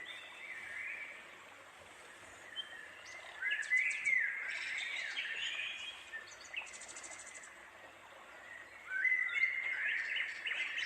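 Soft bird chirps and twittering calls come and go over a quiet, airy background, with a few brighter bursts of song toward the middle and end.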